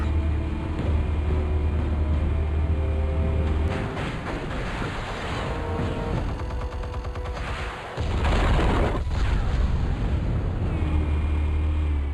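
Explosive charges detonating in the Batman Telltale Series game, a dense rumbling stretch of blasts and crackling debris over a steady low drone, with a sharp burst near the end.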